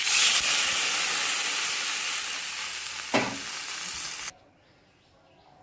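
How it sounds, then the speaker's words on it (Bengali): Boiled taro and potato frying in a pan: loud close sizzling and hissing that fades slightly, with a brief bump of stirring, before the sizzle cuts off abruptly and leaves near-quiet. "মান কচুটা সিদ্ধ করে আলুটাও সিদ্ধ করে নিয়েছি, এখন ভেজে নেওয়া হচ্ছে"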